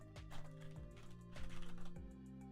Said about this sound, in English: And sorry, you can hear the keyboard.